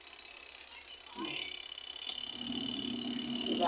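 A mini washing machine on its spin-dryer cycle starts up partway through, its motor hum and rising whir growing steadily louder, while a person briefly speaks nearby.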